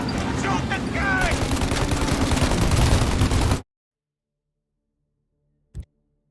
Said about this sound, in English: Shoot out the gun when there's a break in the fire!